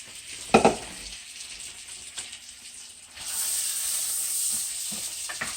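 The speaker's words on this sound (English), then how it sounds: "So we're going to add our corn. Hear that little bit of sizzle? Hence the fried corn." Corn sizzles as it fries in a pan for Southern fried corn, a soft bright hiss that swells into a louder, steady crackling sizzle after a couple of thumps as kernels hit the hot pan.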